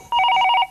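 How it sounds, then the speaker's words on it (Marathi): A telephone ringing in a home, one short loud electronic trill burst of rapid repeated tones, close and clear with no talk over it. "हा, फोन आला."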